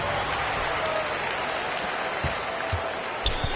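An arena crowd at a Spurs basketball game roars and applauds continuously, a dense wash of cheering with a few sharp ball bounces or thumps near the end.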